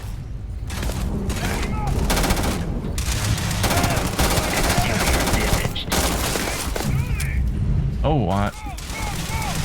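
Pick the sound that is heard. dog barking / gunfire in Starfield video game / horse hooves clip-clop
gunfire in Starfield video game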